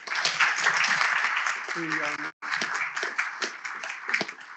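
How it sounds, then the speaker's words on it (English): Audience applause at a law reform lecture, a dense steady patter of many hands clapping at moderate level for a few seconds with a brief pause. "So a round of applause for Marcia, please."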